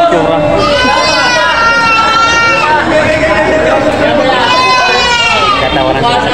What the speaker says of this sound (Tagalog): Mga malaking kambing na native.